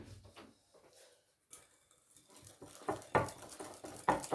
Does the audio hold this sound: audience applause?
no